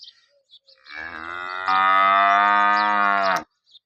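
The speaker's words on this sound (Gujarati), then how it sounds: "આ ગાય હવે દોરાયેલી છે" A local cow, calved about a week earlier, in Tharad, Banaskantha, gives a single long, loud moo rising and holding for about two seconds, close by, with faint rustling before it.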